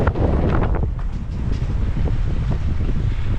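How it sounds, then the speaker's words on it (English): Strong, gusty wind roars and buffets across the microphone while biking along back roads in Japan, a loud and continuous rush that swells and dips. "But it is hecka blustery."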